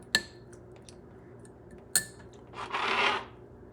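Spoon stirring chimichurri sauce in a bowl, two sharp metallic clinks followed by a brief wet scraping swirl, close and quiet, no talking.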